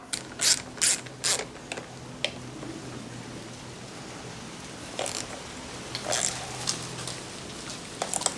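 A ratchet with an 11mm socket tightens the mount of a dirtbike LED light bar, with short close bursts of rapid clicking separated by pauses.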